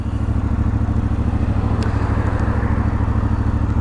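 A brand-new IBEX 450 motorcycle with one mile on it idles with a throaty, steady single-cylinder thrum, loud and close throughout, with a brief faint clink near the middle.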